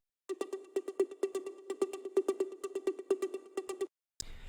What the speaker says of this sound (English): A lot of old school minimal techno had this sort of rolling, perky synth thing.